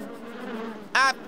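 In a cartoon, a short, loud bumblebee buzz bursts in near the end, following a quieter droning hum.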